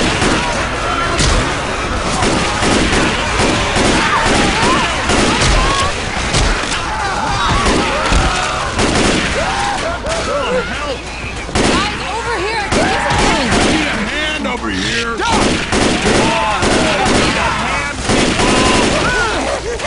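Rapid gunfire blasts away at a zombie horde in Left 4 Dead 2, dense overlapping shots and thuds running continuously and loudly, with frantic voices shouting over the chaos.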